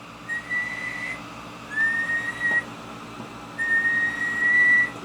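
Audio test tone whistling from an Alpha 76 three-tube amplifier powered up on the bench, steady pure tones in three long stretches at moderate level over a constant hum, with no talking.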